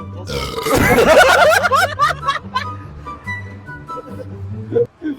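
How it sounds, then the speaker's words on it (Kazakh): A long, loud, guttural burp with voiced, wavering tones, followed by softer grunting and chuckling sounds. "Давай, кім ең қатты кекірді?"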